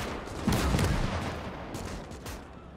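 A KV tank's guns fire in Call to Arms – Gates of Hell: Ostfront, heard as a dense, rumbling barrage of blasts and battle noise that fades slightly toward the end.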